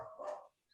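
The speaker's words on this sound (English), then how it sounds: "What are they barking at?" A dog barks once, a fairly close, single burst lasting about half a second before fading into quiet.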